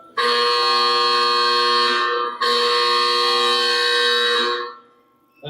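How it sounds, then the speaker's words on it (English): The buzzer of an old building's men's dining room sounds in two long, harsh, loud blasts, about two seconds each, separated by a brief gap, before falling silent. "Now, can you hear that buzzer outside?"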